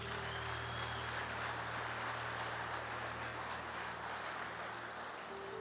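A church congregation claps during a worship service in Jaraguá do Sul, a steady, dense wash of applause from a large room that runs without a break, with low hum underneath.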